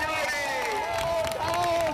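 A crowd in Piazza dei Signori applauds and cheers as a race starts, a continuous roar of clapping and voices with a bright tonal whistle or call above it.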